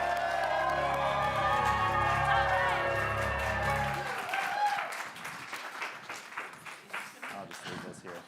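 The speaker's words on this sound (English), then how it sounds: "let's give them a nice, loud round of applause so they hear it outside" An audience at a live improv comedy show applauds the performers, with loud cheering and whoops swelling into steady, dense clapping after a stretch of mixed crowd voices and tonal noise.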